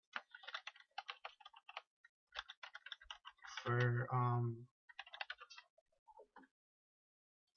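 Typing on a new computer keyboard, giving rapid clustered clicks in bursts that come and go around a short stretch of speech.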